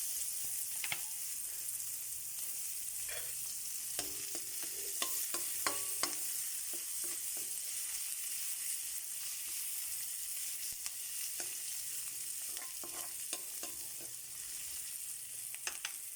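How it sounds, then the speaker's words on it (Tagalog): Garlic and onion sauté in oil and butter with a constant soft sizzle, while scattered clinks and scrapes come from a utensil stirring the pan. "Magigisa na po tayo."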